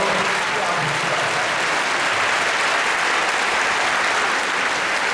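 A large congregation at a Korean world missions conference applauds a missionaries' choir, giving a dense, loud, continuous wash of clapping that holds steady throughout.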